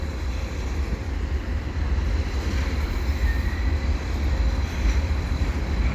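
A mixed freight train with many hopper cars rolls past in a steady, continuous low rumble that holds at an even level throughout, with no voices over it.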